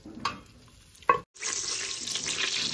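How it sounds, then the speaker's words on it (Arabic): Onion and carrot go into hot melted butter in a pan, with a couple of brief clattering stirs followed by a loud, steady frying sizzle close by and no talking. "ملي غادي تذوب لينا مزيان غادي نضيفوا عليها البصله وخيزو."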